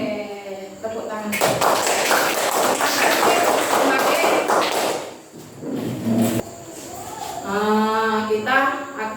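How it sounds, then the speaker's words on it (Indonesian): A school class claps hands together, a dense burst of many overlapping claps from a room full of children, with a voice talking before and after. "Oke, tepuk tangan."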